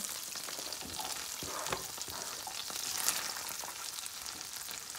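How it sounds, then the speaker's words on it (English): Carrots fry in butter in a pan, a steady broadband sizzle with occasional light stirring scrapes, close and even throughout, with no talk. "So in my pan, I have some butter. I'm gonna be adding my carrots."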